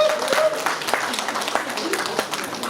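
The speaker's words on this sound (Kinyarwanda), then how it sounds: "Nimumumpera amashyi wawe." Applause from guests at a Rwandan traditional engagement and dowry ceremony, a steady patter of clapping close by throughout, with voices talking over it.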